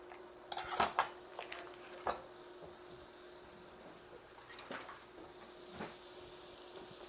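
In a home kitchen, a pan is handled on the stove as butter goes in for frying leftover rice pudding: a few sharp metallic clanks and knocks near the start, then quieter scattered clinks over a faint hum.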